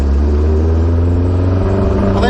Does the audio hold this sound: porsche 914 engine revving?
yes